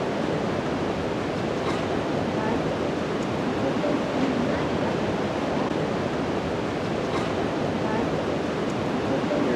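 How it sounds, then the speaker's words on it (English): The Athabasca River flowing and swirling over limestone toward the falls near Jasper, a steady, broad rushing roar of moving water, close and continuous without pause. "Here's the Athabasca River headed towards the falls"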